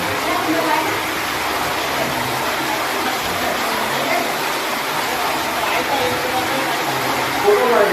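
A waterfall at a Mahadev temple pours in a continuous broadband rush, loud and steady throughout, with no clear break or change in the flow.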